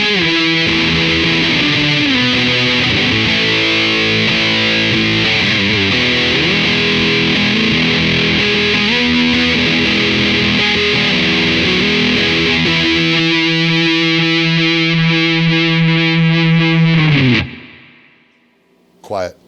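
Reverend BC-1 electric guitar on the bridge pickup with all controls wide open, played through GS124 and GS68 pedals: a loud, thick, heavily distorted sustained chord wall that rings out then cuts off near the end.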